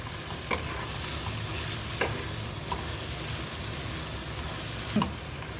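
Masala with chilli powder fries in oil for dal khichdi, a constant close sizzle broken by a few sharp scrapes and taps as a spoon stirs the pan.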